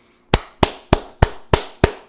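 Cheeks clapped six times in an even beat, each slap crisp, loud and close with a brief smacking tail, heard alone without any talk.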